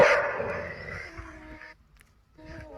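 A dog barks and yips near the start, then the sound fades into quieter background noise with a short burst near the end.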